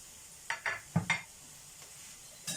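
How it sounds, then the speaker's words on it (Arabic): Chicken nuggets frying in hot oil in a home kitchen, with a faint steady sizzle under a few sharp clinks and knocks of utensils and pans, no talking. "المهم غنوري لك هنايا غنقلي هذوك لي نوغيت ها هما"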